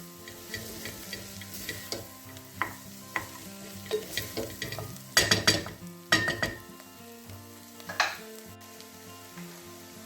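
Flour is stirred into a pan on the heat for cream of asparagus soup, with repeated scraping strokes of a utensil against the pan and a soft sizzle underneath, irregular and close.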